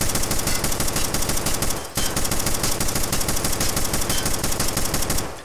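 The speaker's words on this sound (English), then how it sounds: "I'm just going to let loose, fire as fast as I possibly can, so you can kind of see how the gun's going to perform" Sustained rapid automatic fire from a Springfield Armory M1A rifle in Escape from Tarkov, a loud, dense rattle of shots with one brief break near the two-second mark, then continuing unbroken until it tapers off.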